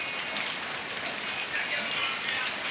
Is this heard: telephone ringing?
no